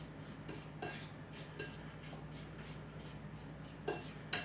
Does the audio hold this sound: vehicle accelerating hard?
no